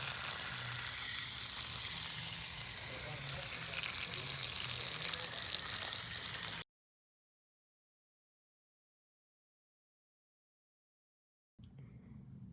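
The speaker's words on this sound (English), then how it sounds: "Then we're gonna water in our cuttings. So I'm gonna water this really well." Water pours steadily onto freshly planted tomatillo cuttings in a continuous hissing splash, then stops abruptly, leaving silence before the sound starts again briefly.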